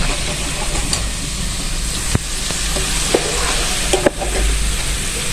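Potato chips fry in hot oil with a steady, close sizzle and hiss, broken by a few faint clinks and stirring sounds.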